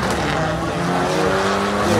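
A drag race car launches on its first pass, its engine a loud, steady roar that fills the whole moment, with a hint of tire squeal.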